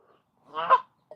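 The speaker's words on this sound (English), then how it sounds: "There's geese everywhere." A goose honks in a short burst of several calls in the open outdoors, fairly close and loud, with quiet before it and a brief sharp sound at the end.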